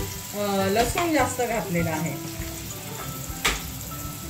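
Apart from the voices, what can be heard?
tempering spices sizzling in hot oil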